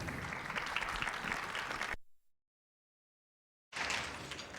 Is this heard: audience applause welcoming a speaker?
yes